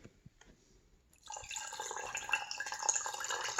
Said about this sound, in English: Now all that's left to do is put water in them.